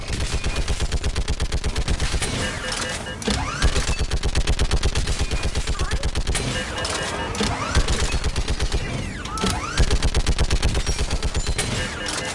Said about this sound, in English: More on the way! Keep firing!